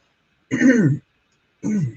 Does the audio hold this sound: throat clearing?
yes